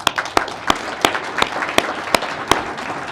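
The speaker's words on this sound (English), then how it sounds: "How about a round of applause for them?" Audience applause for event sponsors at a gathering, heard as a few loud, sharp claps standing out over a steady, lighter patter of clapping that continues throughout.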